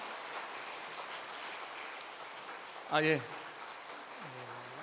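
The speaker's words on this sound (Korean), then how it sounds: "환영의 박수를 같이 한번 하도록 하겠습니다" A church congregation at a Sunday morning service gives faint, distant applause of welcome, a soft continuous patter, and a single short voice cuts in briefly partway through.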